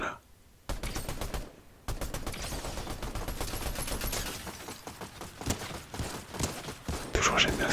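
Rapid rifle gunfire in Fortnite, bursts of shots rattling close and loud through most of the stretch with short pauses, mixed with other game noise.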